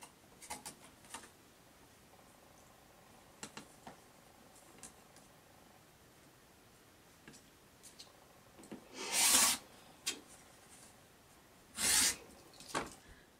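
A rotary cutter slices quilting fabric along a ruler, giving two short, crisp swipes several seconds apart, with faint ticks and light handling noises in an otherwise quiet room.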